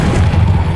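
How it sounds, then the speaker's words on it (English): Levitation spell Levioso cast in the video game Hogwarts Legacy, a short, dense magical whoosh with a low, booming rumble filling the whole moment. "Levioso."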